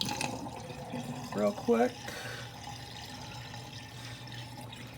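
Tap water runs steadily into a sink while a dyed doll wig is rinsed, a constant wash of flow with a few brief splashy bursts, and a person speaks briefly over it.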